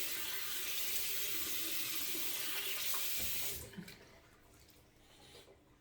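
Tap water runs steadily from a bathroom faucet into a sink while a face is rinsed after a safety razor shave, then cuts off, leaving faint drips and quiet handling.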